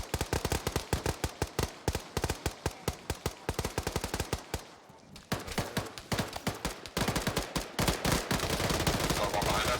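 Dense automatic gunfire in the tactical shooter game Squad, rapid bursts of loud shots crackling continuously, with a short lull midway before the firing resumes even heavier.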